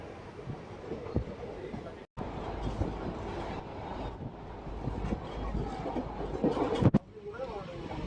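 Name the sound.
Guntakal–Tirupati passenger train running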